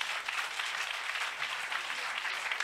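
A church congregation applauds in steady, dense clapping heard from a moderate distance, even and fairly soft throughout, with no distinct voices.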